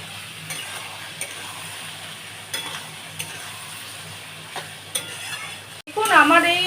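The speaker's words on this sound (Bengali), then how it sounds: "এবারে আমি মশলাটা কষবো।" Spices with potatoes, peas and tomato fry in a pan while a utensil stirs them, giving a soft continuous sizzle broken by regular scraping strokes, with a sharper burst of frying near the end.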